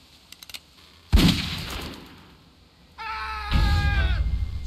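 A single loud gunshot rings out in The Walking Dead video game, its crack decaying over about a second, followed by a quieter tonal sound and then a louder rumbling noise.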